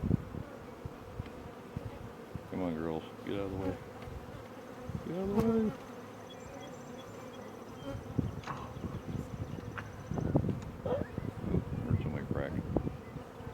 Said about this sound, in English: I got a bunch of bees on that backside there